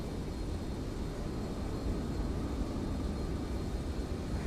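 A steady, dense engine roar fills the cabin of a Singapore Airlines Airbus A350 on its takeoff run from runway 02, loud and unbroken throughout.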